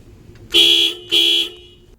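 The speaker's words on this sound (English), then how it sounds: "On top of the left control lever is the horn button." Excavator horn sounded from the button atop the left control lever: two loud, close toots, each about a third to half a second long, separated by a brief gap.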